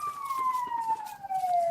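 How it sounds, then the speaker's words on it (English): Faint and distant, a fire truck siren wails in the background, holding one long tone that slowly falls in pitch. "sorry about the fire truck in the background"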